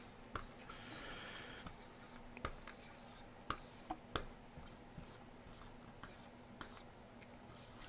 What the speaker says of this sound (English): I'm just going to write that down right at the top here